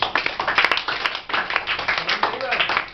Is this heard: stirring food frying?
no